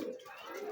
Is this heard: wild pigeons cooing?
yes